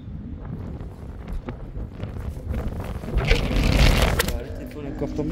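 Gusty wind buffets the microphone at a seaside fishing spot near Martigues, a steady low rumble that swells louder toward the middle, with a person talking over it.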